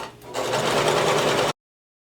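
A sewing machine stitches around the curve of a skirt pocket, a close steady motor whir with rapid needle clatter that runs for about a second and a half, then stops abruptly.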